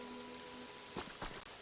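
Soft rain patters steadily on surfaces in the Pokemon Pokopia video game, a faint continuous hiss with a couple of slightly louder splashes, no voices.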